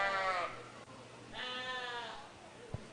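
Yearling ewes at a 4-H sheep show bleat twice in quick succession, close and fairly faint, over a low hum of the show ring.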